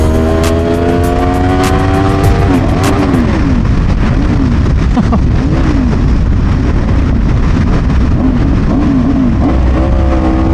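Yamaha R7 motorcycle with a torquey twin engine pulling hard under throttle, loud and close. The engine note climbs steadily through the revs, then wavers through repeated rises and dips under rushing wind noise.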